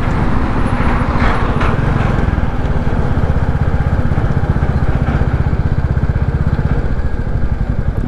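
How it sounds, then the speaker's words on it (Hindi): A 2021 Royal Enfield Classic 350 single-cylinder motorcycle engine runs close up, a loud steady rapid thumping with no break, joined by faint road noise and no speech. "बाइक को किया जाए एक बार स्टॉप, बाइक को किया जाए न्यूट्रल और स्टार्ट किया जाए इसका"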